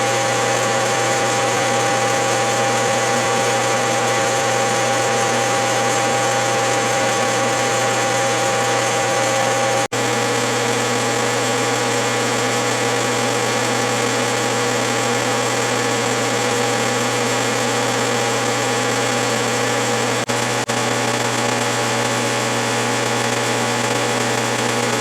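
An Atlas metal lathe turns a taper on a mica undercutter part, a steady continuous motor hum with a droning tone and faint cutting hiss, unbroken throughout with no speech.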